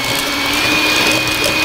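An electric hand mixer whirs steadily in a bowl of cake batter for berry cheesecake, giving a loud, close, continuous motor drone with no talk.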